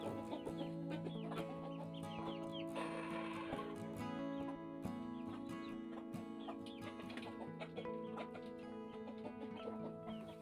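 Backyard chickens in a small home poultry flock cluck and call steadily throughout, a busy, layered mix of hens close by with no talking.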